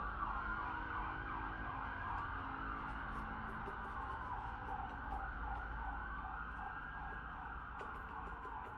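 A wailing siren rises and falls repeatedly at moderate distance, sweeping over a steady background of traffic rumble.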